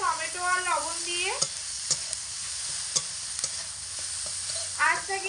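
Potatoes stir-fried with tomato, salt and turmeric over medium heat, a continuous close sizzle broken by sharp spatula scrapes and knocks, with a brief tonal vocal sound at the start and end.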